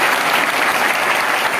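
An audience at a political rally in Haryana breaks into dense, steady applause, a loud continuous wash of clapping from a large crowd with no pauses.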